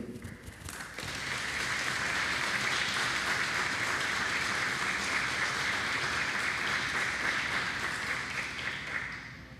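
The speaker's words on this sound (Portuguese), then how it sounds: "quero solicitar também aplausos pelo aniversário da vereadora Sônia Patas da Amizade" A city council chamber breaks into applause for a councillor's birthday, clapping swelling after a second and holding steady from many people before easing at the end.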